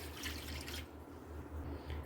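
Water pours onto raw mutton liver and lungs in a bowl, a soft, steady splashing and trickling that runs for about a second before easing into quieter dribbles, close and gentle with no talk.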